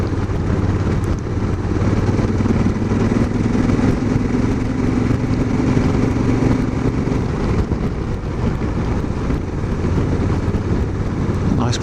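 A motorcycle engine drones steadily as it climbs a hill on a cold, icy ride across Salisbury Plain, a continuous loud rumble mixed with heavy wind buffeting the microphone.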